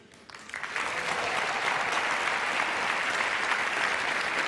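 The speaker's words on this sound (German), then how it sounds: "Applaus" Applause from a comedy club audience swells within the first second into dense, steady clapping that stays loud and sustained until the end, with no voices over it.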